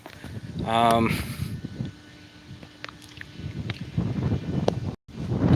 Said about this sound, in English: So it is really windy out here right now.